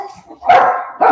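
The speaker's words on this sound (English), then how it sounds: "Guys, what if we didn't bark?" Dogs bark in two short, loud bursts, the second following a brief pause, sounding close and unaccompanied by talk.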